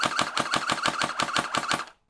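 A Gel Blaster Surge XL fires about ten evenly spaced sharp bursts in rapid succession, close and crisp, before stopping abruptly into silence.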